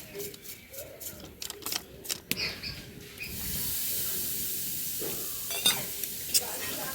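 Semolina pitha batter with ENO added is stirred in a bowl, a run of soft scraping and tapping strokes giving way to a steady fizzing hiss as it froths, with a few light clinks near the end.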